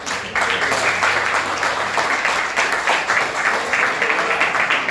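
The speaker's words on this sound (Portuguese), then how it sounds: "Aplauda o Senhor." A church congregation applauds, a steady, loud, continuous wash of many hands clapping together that keeps going without a pause.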